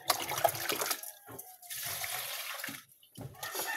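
Water runs from a tap while rice is being washed, a close splashing flow that stops and starts in short bursts, with brief pauses and swishing between.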